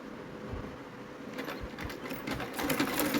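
A sewing machine stitches a long two-piece dress after it is cut shorter, running in a steady close-up whir that grows louder toward the end, with no talking.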